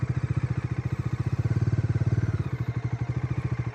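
Bajaj Dominar 400 motorcycle engine running at a steady idle, a close, even, rapid thump with a slight mechanical clatter, heard alone.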